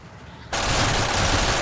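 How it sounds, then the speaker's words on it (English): Akimbo secondary machine pistols in Call of Duty MW3 let loose a sudden, loud, continuous burst of rapid automatic fire that starts abruptly and runs unbroken to the end, with no voices over it. "And akimbo secondary machine pistols."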